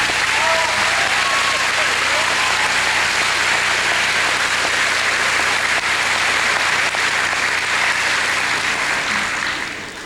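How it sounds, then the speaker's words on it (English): An audience at a 2004 graduation ceremony gives sustained applause, a dense, even roar of clapping from many hands that holds for about ten seconds and then tapers slightly at the end. "Let's give them a round of applause, please."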